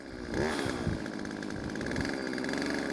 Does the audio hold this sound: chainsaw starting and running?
yes